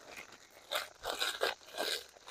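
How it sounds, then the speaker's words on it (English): Spicy Cajun potato chips being crushed inside their bag in a backyard, a few close, crackly crunching bursts with crinkling in between. "I'm going to crunch them up just a little bit here."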